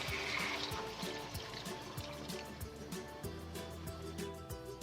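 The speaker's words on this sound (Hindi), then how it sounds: "अब हम इसमें 1 कप पानी ऐड कर देंगे" Water is poured into a pan of eggplant and potatoes cooking on the stove, a steady trickling pour over soft sizzling and clinking with no talk.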